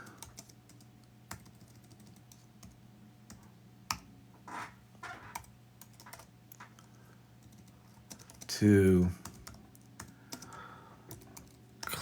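Typing on a computer keyboard at a desk, with scattered soft clicks spread through the span and a short louder burst of keystrokes near the end, heard over a low steady hum.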